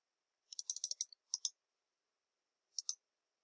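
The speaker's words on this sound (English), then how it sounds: "Click the button." Mouse clicks on a button while changing an email setting on a Weebly web page, a quick run of sharp, faint clicks followed by a pair and then a lone double click, with no talk.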